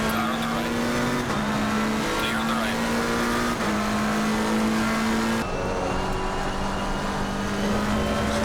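Race car engines roar steadily at the Spa circuit in the racing game Assetto Corsa Competizione during a multi-class race, with a loud droning engine note shifting pitch through gear changes, while a voice talks over it.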